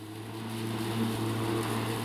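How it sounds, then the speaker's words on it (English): An Ozito 36V battery lawn mower runs at a distance, producing a steady, even motor hum with a low tonal drone that holds throughout at moderate loudness. "You can still hear it as a lawnmower from over here."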